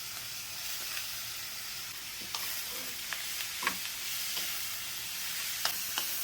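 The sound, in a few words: long bean pieces sizzling in a stir fry with pork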